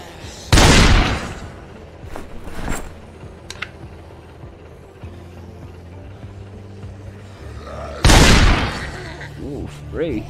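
Two loud, sharp booms from guns in Project Zomboid ring out several seconds apart, with quieter mechanical clatter and faint pops between them.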